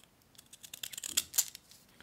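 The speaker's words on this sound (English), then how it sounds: "using these decorative scissors, I just cut it down" Quiet, close snipping of decorative scissors through paper, a quick series of crisp cuts growing slightly louder, then trailing off.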